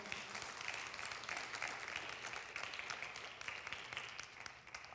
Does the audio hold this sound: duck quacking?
no